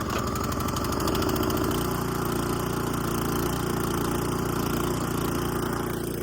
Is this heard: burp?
no